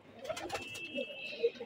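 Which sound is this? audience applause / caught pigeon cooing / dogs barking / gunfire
caught pigeon cooing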